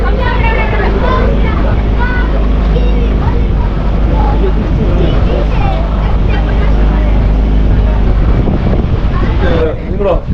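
A motorboat cruises on a full dam reservoir near Munnar, its engine a constant low drone beneath wind buffeting and almost continuous talking from people aboard.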